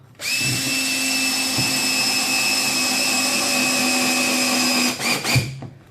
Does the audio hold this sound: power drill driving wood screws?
yes